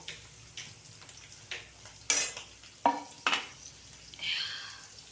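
Onions go into hot oil in a pan on a heater after green chillies and garlic, with a few sharp sizzling bursts and stirring scrapes against a low background, no talk.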